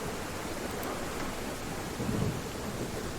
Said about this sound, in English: Well, we've got another storm,